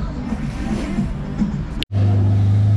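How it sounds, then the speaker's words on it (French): A Ferrari supercar on a Monaco street roars loudly with a sustained engine rumble, cuts out briefly, then settles into a steady, deep idle drone close by. "La Ferrari, elle s'est allumée"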